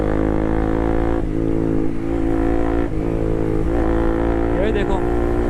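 Close and loud, a Bajaj Pulsar RS200 with an Akrapovic aftermarket exhaust growls continuously during a night ride, its deep rumble rising and dipping with a few throttle blips.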